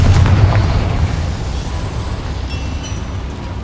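Confringo fire spell explosion in the video game Hogwarts Legacy, set inside a mine: a loud, deep burst that fades into a low rumbling tail, with no speech.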